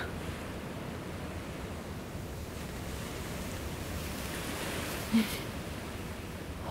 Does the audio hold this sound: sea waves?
yes